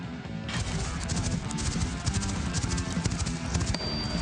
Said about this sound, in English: He gets mounted on a horse.